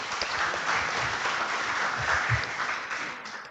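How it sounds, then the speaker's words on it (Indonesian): Audience clapping steadily at an anti-corruption event held at a customs office in Bandung, dense and sustained applause filling the room throughout with no pauses. "Mungkin boleh tepuk tangan buat Bapak Ibu Hanggar."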